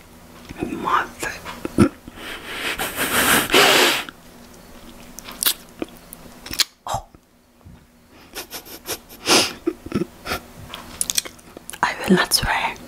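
Sour cherry Warheads chewy candy cubes being bitten and chewed close to the mic, with several bursts of crunchy, sticky mastication and lip smacks between softly spoken talk.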